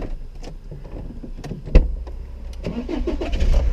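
A car engine cranks with one sharp burst and catches, then settles into a low, steady idle rumble close by, after a few quieter clicks and knocks from inside the car.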